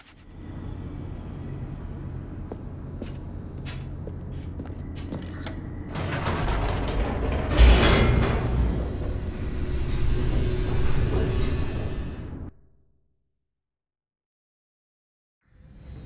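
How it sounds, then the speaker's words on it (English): Elevator descending in The Stanley Parable: a steady mechanical hum and creaking rumble that swells louder midway with a sharp clunk, grinds on for several seconds, then cuts to silence before a faint resumption at the end. "The elevator raced downward,"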